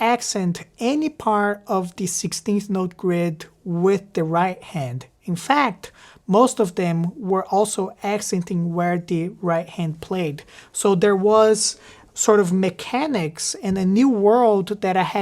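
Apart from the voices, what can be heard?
No distinct noise like a dog, phone or traffic.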